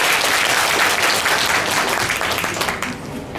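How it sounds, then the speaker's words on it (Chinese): An audience at a crochet workshop event breaks into dense, sustained clapping that stays loud for nearly three seconds and then trails off. "请大家也给他们一个掌声"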